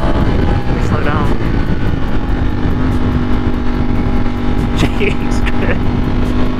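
A Ducati Streetfighter motorcycle fitted with a 520 chain and sprocket roars steadily at close range while being ridden uphill, its loud continuous engine drone shifting slightly in pitch, with a voice talking over it.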